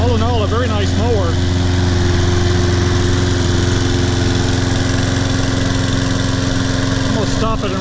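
A Toro Personal Pace Recycler 20332 self-propelled lawn mower engine runs steadily at close range, a loud continuous throbbing drone, while someone talks over it at the start and end.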